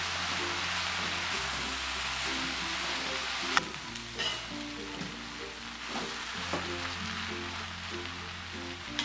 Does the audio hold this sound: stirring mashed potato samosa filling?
yes